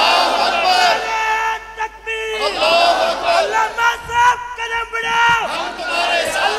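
A large crowd at a religious political rally roars back a slogan in loud, rising chanted responses, with a lead voice calling between the surges.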